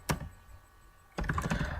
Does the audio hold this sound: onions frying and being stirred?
no